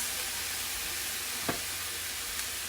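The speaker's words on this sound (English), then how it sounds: "I'm gonna go ahead and do the turkey first because that's gonna take a minute to brown" Ground turkey browns in a pan for tacos with a steady, hissing sizzle throughout, broken by a single sharp utensil tap; close and continuous, without voices.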